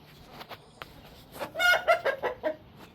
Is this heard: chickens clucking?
yes